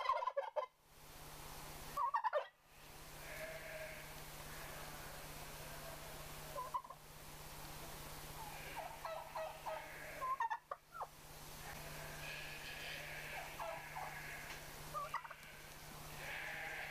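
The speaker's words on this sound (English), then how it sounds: "In the foreground here is a turkey hen, while a male turkey spreads its tail in the background." Several bursts of male turkey gobbling rattle out over a steady outdoor hum, with other birds calling faintly between them.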